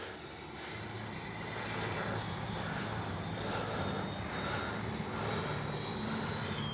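An FMS 80mm F-86 radio-controlled ducted-fan jet flies past on its maiden flight, a faint, steady whooshing whine that swells slightly and holds, heard from a distance outdoors.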